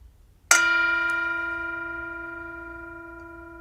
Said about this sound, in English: Enjoy the sound of the bell in this moment.